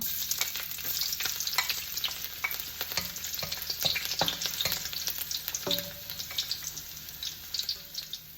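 Garlic sizzles and crackles steadily in a hot pan for a Filipino Ilocano poke-poke eggplant dish, close and fairly loud, with occasional stirring clatter and a few soft clicks of utensil against the pan.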